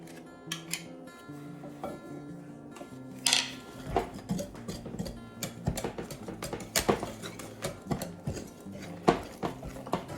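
Sweet pie filling mixed in a bowl for a Southern dessert, with irregular clinks and scrapes of a utensil against the bowl and quick stirring bursts, close and clear.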